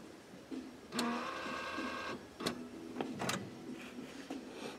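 An Epson WorkForce Pro WP-4630 inkjet printer runs its preparation cycle after an ink cartridge change, a whirring motor with repeated mechanical clicks and clacks, close and fairly loud.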